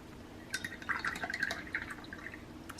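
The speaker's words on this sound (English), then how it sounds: "Just add just a little bit of water" A little water trickles and drips as it is added to paint during color mixing, a quiet, close sequence of small liquid plinks and drops with no talking.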